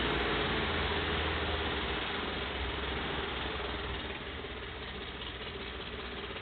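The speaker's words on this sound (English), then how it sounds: "That's idling better now." A car engine idles with a steady, low, continuous hum, fairly faint and unchanging apart from a slight drop in level partway through.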